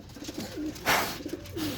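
Pigeon cooing nearby, two soft throaty coos with a short flutter-like burst between them, quiet and close.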